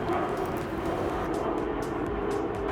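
A plane flies right overhead above a quiet park in Washington, D.C., its broad, steady engine roar loud and continuous throughout.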